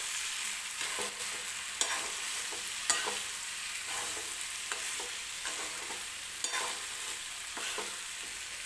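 Fried cauliflower and potato are stirred into a sizzling masala for a cauliflower-and-potato curry, a soft frying hiss under repeated scraping spoon strokes and occasional clicks, close and quiet, no speech.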